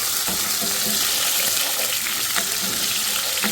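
Three chopped green chillies fry lightly in a pan with a steady, close hiss of oil. Faint scraping stirs come through at intervals.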